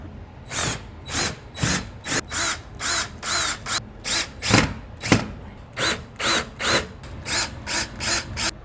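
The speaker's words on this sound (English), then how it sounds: "I'm going to attach the bracket to the wall with these drywall screws" A power drill drives drywall screws through a bracket into a wall in repeated short bursts, each whirring run rising and stopping in a regular rhythm, close and loud.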